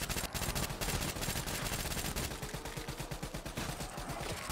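Rapid automatic fire from a BRM rifle in Black Ops 3 custom zombies, a dense run of loud, close gunshots repeating steadily throughout with no pauses.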